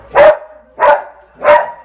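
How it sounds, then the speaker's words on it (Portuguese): A dog barks three times at a door in a steady rhythm, loud and close, with no other sounds around it. "O que, que você tá latindo pra porta?"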